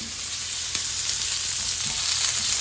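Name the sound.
scallops sizzling in frying pan while stirred with garlic powder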